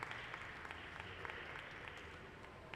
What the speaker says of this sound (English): Let's give a big round of applause for John Kiley and the Hot Shop team.